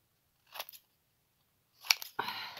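Paper greeting card cut freehand with scissors, a few short close snips separated by pauses, then a brief rustling scrape of paper, with no talk.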